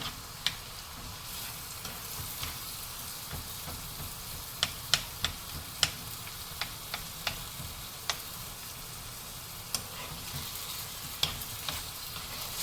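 Spicy prawn pickle is stirred in a pan with a spoon over a steady, dense sizzle, with occasional sharp spoon taps against the pan scattered through.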